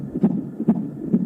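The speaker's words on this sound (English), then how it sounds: "Sounds like a heartbeat." A heartbeat opens a thrash metal song, three loud, evenly spaced low thumps about half a second apart, heard alone.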